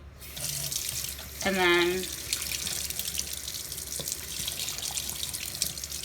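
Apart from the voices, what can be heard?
tap water rinsing a synthetic makeup brush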